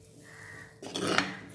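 Water is poured into a banana flower kulambu in a pot, a brief close splashing gush after a quiet moment.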